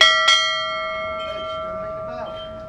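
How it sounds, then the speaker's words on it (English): A single strike of a bell at Chatham Dockyard rings out clearly, its bright tone sustaining and slowly fading over a few seconds. "going to give the bell a ring"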